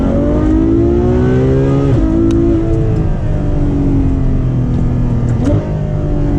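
A Ferrari F12 accelerating at full throttle, heard as a loud, sustained engine roar. Pitch climbs steadily, drops briefly at two gear changes, then climbs again, close and continuous, with no talking.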